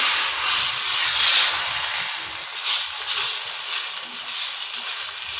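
Freshly poured first dosa batter sizzling on a hot pan over a high flame, a close, steady crackling hiss that swells and eases slightly throughout.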